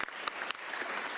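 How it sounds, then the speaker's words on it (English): Applause from chiefs at a special assembly in Ottawa, a sustained burst of clapping with a few sharper claps standing out, filling the hall without a break. "I think that does deserve a round of applause."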